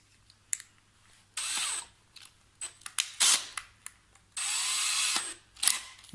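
A cordless drill driver spins in a few short bursts, two longer whirring runs set apart by clicks and small knocks, close up and fairly quiet, with no talking.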